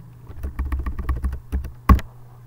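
Rapid clicking of a computer keyboard being typed on, a run of close, crisp keystrokes over a low steady hum, ending in one heavier key strike.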